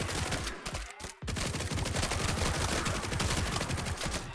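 An SMG rattles off in a survivors-style video game, a dense, nonstop burst of rapid gunfire with one brief pause near the start, loud and close.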